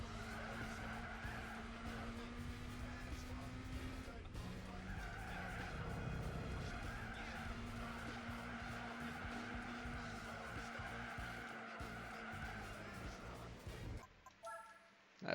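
A Volkswagen Golf in Gran Turismo 4 drives with a steady engine drone and long stretches of squealing, skidding tyres under braking, then the sound cuts off abruptly near the end.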